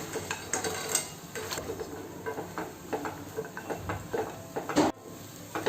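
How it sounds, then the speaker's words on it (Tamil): Fried idlis are stirred into a chilli sauce in a pan: a soft sizzle under a busy run of scraping, tapping utensil strokes, with one louder clatter near the end. "இப்போ நம்ம பொரிச்சு வச்சுருக்க இட்லிஸ் எல்லாம் இதில் சேர்த்துடலாம். நல்லா மிக்ஸ் பண்ணி விடுங்க."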